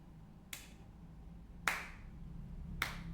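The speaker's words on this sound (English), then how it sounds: "Clap slowly, slowly." Three slow, widely spaced, sharp hand claps ring out in a quiet room at a children's seminar, each about a second apart, with no talk.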